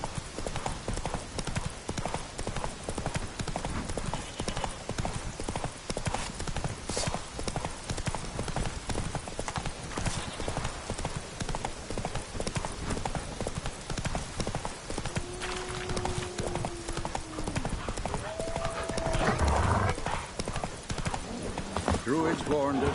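Roach the horse gallops in a video game, a steady rapid clip-clop of hooves running throughout, with a brief whinny and some game voices and effects near the end.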